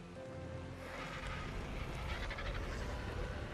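Rain falls steadily in the survival game ARK: Survival Ascended, a constant broadband hiss like wind-driven showers that stays even throughout, with no talking.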